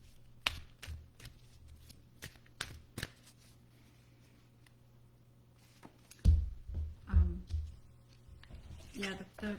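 Cards are shuffled and pulled from a deck in a series of short, crisp flicks and snaps, fairly close, followed by softer handling and a few louder shuffles near the end, with some talking.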